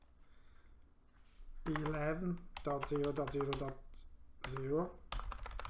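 A computer keyboard clatters with quick keystrokes while someone enters RIP routing network addresses in Packet Tracer, the soft typing partly buried under someone speaking throughout.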